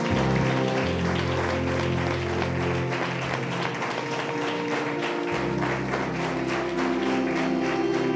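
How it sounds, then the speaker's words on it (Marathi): A church congregation at a Sunday service claps over a sustained keyboard with shifting chords, steady applause running under the music throughout. "आवडला असेल तर जरा टाळ्या वाजूया"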